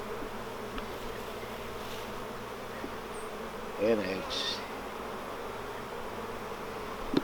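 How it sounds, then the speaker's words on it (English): Steady buzzing of many honeybees close by at a hive frame, with a brief spoken remark partway through. "This thing is hammered with bees"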